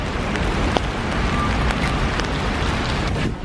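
Rain falls steadily on a city street in China, producing an even, broadband hiss throughout with faint scattered taps and a low background rumble.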